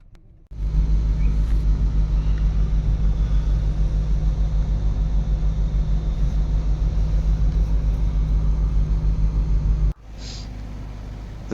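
Truck engines idle steadily aboard a ferry crossing the river Aldan, a loud, close, continuous low rumble with a constant hum that cuts off abruptly near the end, leaving a quieter background drone.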